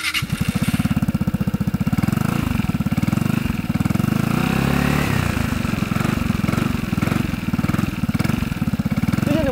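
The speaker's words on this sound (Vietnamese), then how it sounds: "Và tiếng bô sẽ được gửi đến các bạn trong" A Vespa GTS Super Tech scooter with an aftermarket exhaust runs close by, making a loud, steady, pulsing idle burble with slight rises in throttle and no talking over it.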